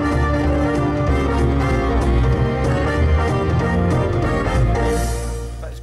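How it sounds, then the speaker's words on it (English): Lowrey E Series home organ playing an introduction with the drum variation engaged, dense sustained chords over a steady, thumping rhythm pattern at a constant, full level throughout, no voices. "you get this wonderful doom doom doom doom doom doom with the drums."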